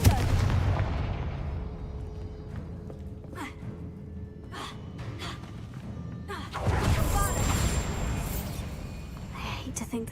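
A Confringo fire spell bursts in Hogwarts Legacy, a deep booming explosion that swells midway through a quieter stretch of low rumbling game ambience and scattered thuds.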